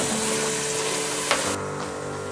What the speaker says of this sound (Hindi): सब मसालों को मिक्स करके फ्राई करेंगे।